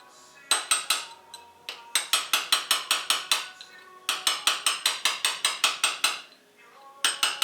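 Metal hammer blows driving a big flat punch against a nut on a 2016 BMW S1000RR motorcycle, heard as rapid, evenly spaced metallic taps in three bursts with short pauses between them.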